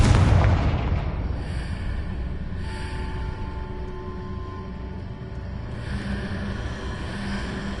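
Loud blast from the Confringo fire spell in a Harry Potter game, with a heavy boom at the start that trails into a long rumbling, crackling wash of battle ambience.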